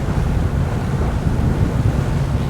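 Strong wind roars across open sea on a stone crab trapping boat, a loud, continuous, rumbling buffet against the microphone mixed with wave wash, with no voices.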